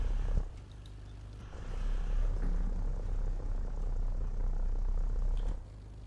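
Propeller aircraft engine in War Thunder, a steady low droning hum that swells as power is added, holds for a few seconds, then drops away, heard alone without talk.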